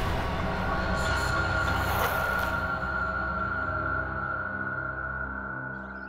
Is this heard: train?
yes